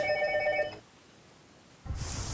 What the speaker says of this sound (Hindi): उसी आदमी का फोन आ गया।